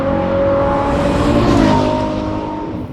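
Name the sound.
Maserati GranTurismo Nettuno engine revving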